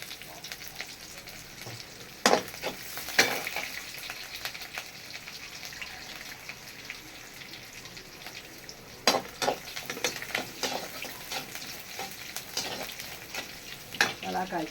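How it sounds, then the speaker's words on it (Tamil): Onions fry in hot oil for potato masala, giving a steady close sizzle with occasional sharper stirring scrapes of a utensil against the pan, and no one talking. "உருளைக்கிழங்கு மசாலாக்கு வெங்காயம் போட்டாச்சு."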